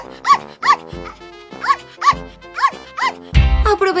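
A small dog howls in a Barbie doll play scene, giving a string of six or seven short, close, rising yelping howls in an even rhythm, followed by a burst of other voices at the end.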